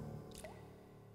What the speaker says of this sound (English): This is the flooded cavern sound set